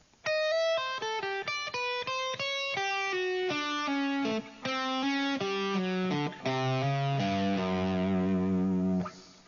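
Distorted electric guitar playing fast rock fusion lines full of flat-five notes, a rapid run of sustained, effects-laden tones that ends on a long held note, played alone with no talking.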